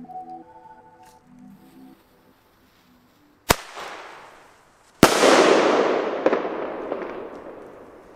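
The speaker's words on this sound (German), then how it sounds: "Doppelknallbombenrohre von Explode, alle auf Schlag." Explode double-bang bomb tubes fired outdoors, two sharp loud cracks a second and a half apart, the second followed by a long crackling, hissing tail that slowly fades, no voices over the blasts.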